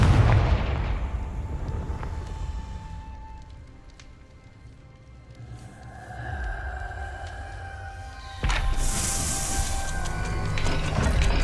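The Confringo fire spell goes off in Hogwarts Legacy as a booming, crackling blast over a dense rumbling game soundscape, with a second sharp, bright burst near the end.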